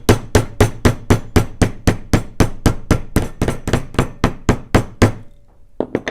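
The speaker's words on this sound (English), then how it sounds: "I'm going to go with that flat face hammer. We're going to work just around that border edge here" A flat face hammer strikes steadily along the edge of a leather belt, about twenty close, sharp blows at an even pace, then a brief pause and two more taps, with no talking.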